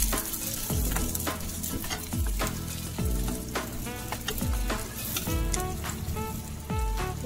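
Small shallots sauté with salt and green chillies in a pan, a continuous sizzle broken by rhythmic stirring scrapes about once a second.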